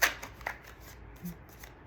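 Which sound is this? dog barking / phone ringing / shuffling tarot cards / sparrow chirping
shuffling tarot cards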